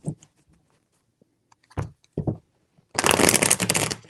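A few soft taps and riffles of tarot cards come first, then a loud, close burst of continuous shuffling fills the last second, with no talking.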